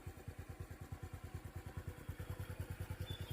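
Motorcycle rolling into the grounds of Thap Thim Siam 07 school in a Thai border village, its engine putting out a steady, rapid thumping idle-like rhythm up close, with no voices over it.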